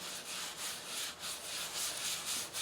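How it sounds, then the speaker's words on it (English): Yorkshire grit abrasive rubbed against a spinning wooden pedestal bowl on a lathe, giving a steady, hissy rubbing sound that swells and fades in quick, regular strokes. It is fairly quiet, with no voices. "put a little Yorkshire grit on it"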